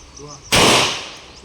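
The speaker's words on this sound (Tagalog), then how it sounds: "Okay, 2 shots. Fire when you're ready." Single sharp gunshot at a shooting drill, one loud close crack with a quick decaying tail after a quiet lead-in with faint voices.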